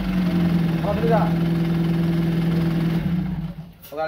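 A used car engine, sold with a warranty, runs at a steady idle with a strong low hum for about three seconds before it cuts out. People talk over it near the end.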